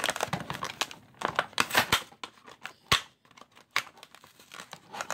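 Plastic and cardboard packaging of a Joker flextreme action figure torn and crinkled up close, a run of irregular rips and crackles with brief pauses between them.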